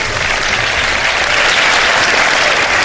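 A studio audience at a Ramadan iftar television show applauds loudly and continuously, a dense wash of clapping hands that stays full and even from start to finish.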